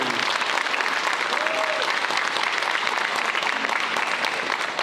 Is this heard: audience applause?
yes